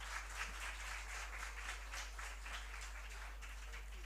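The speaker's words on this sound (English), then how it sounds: "So big round of applause for them also." Applause at a university convocation ceremony, a quiet, distant patter of many hands clapping in a large hall, steady and even beneath a constant low electrical hum.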